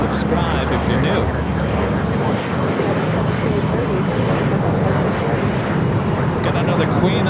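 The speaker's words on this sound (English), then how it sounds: "Atlas Air Flight 8274, 747-400 freighter." A loud, continuous roar from an Atlas Air Boeing 747-400 freighter arriving at Los Angeles International Airport, steady and broadband throughout and heard close by.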